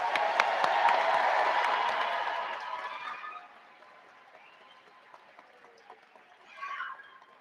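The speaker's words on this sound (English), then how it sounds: "Let's give a round of applause for our awesome graduates." Crowd applause and cheering for graduates fill a high school graduation ceremony hall, loud at first and then fading to scattered claps, with a brief swell of voices near the end.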